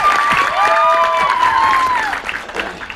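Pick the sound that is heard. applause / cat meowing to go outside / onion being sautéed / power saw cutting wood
applause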